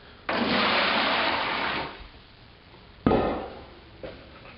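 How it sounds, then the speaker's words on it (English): Water pours into a container to begin a homebrew cleaning soak, a steady broadband rush lasting about a second and a half, then two shorter splashing pours, loud and close with no talk. "Put a little water in first."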